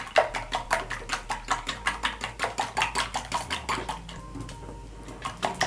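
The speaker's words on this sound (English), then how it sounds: "So I'll use my whisk and whisk the seasoning and the eggs together." A wire whisk beating eggs with black pepper and salt in a bowl, a steady quick rhythm of clinking strokes that runs on evenly, close and fairly quiet, with no talking.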